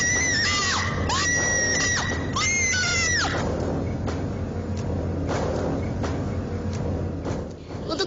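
A woman screams hysterically in long, wavering shrieks in a tense setting, then the cries fade into muffled noise and scattered knocks.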